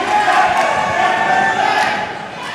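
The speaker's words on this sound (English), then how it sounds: "The crowd are absolutely roasting him up." Boxing arena crowd jeering a fighter, a dense, loud roar of many voices booing and shouting continuously throughout.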